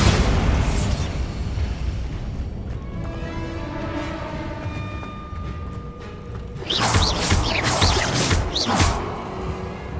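Confringo and Bombarda spell blasts in Hogwarts Legacy: booming explosions with rumbling low end, a burst at the start and a louder crackling blast later, over game ambience and music.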